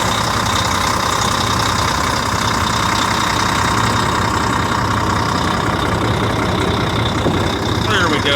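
A 2005 Volvo day cab truck engine idles steadily in freezing cold weather under an open hood, a continuous rumble throughout with some voice activity mixed in.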